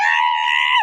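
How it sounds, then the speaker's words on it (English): A goat's scream, dubbed in, rings out as a single loud, sustained, piercing bleat of about a second, falling off sharply at the very end. "we dubbed in the sound of a screaming goat for one scream"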